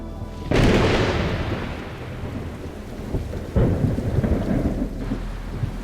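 Thunderstorm arriving over a dry savanna at the start of the wet season. A sudden loud thunderclap rolls out over heavy, steady rain, and a second sharp crack breaks partway through.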